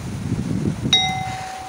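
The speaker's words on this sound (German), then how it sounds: "Du sollst doch nicht mit der Glocke spielen." A bell is struck once in a school setting, giving a single clear ding with a sustained ringing tone that fades over the final second, after a stretch of low rumbling background noise.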